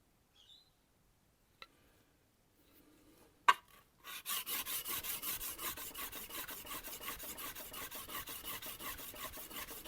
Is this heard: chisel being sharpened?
yes